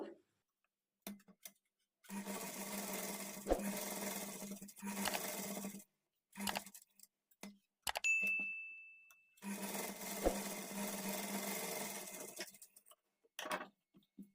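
A sewing machine stitches along the edge of a patchwork blouse neck beside the piping, running in short whirring bursts separated by pauses, close and fairly loud with no talking.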